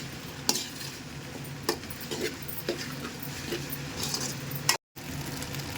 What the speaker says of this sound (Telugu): ఇలా మంచిగా మిక్స్ చేసుకోవాలి.